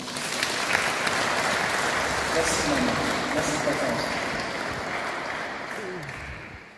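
Audience applause at a funeral service fills the space in a steady, dense wash of clapping that fades slightly toward the end, while a voice speaks briefly over it.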